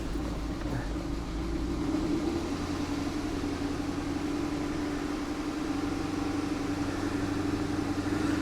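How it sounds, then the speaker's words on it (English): Steady, loud engine of a junked Chevrolet Camaro SS RS convertible running close by, a constant rumbling drone with little change in pitch throughout. "I'm gonna rev it up a little bit, just a little bit."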